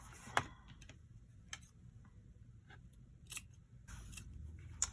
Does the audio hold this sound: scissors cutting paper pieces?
yes